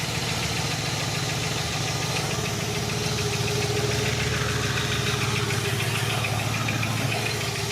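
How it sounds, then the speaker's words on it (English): A 1967 Buick GS340 engine idles steadily after a valve stem seal job, with a rapid, even lifter tap ticking over its low rumble, close up and with no voices. "That lifter tap."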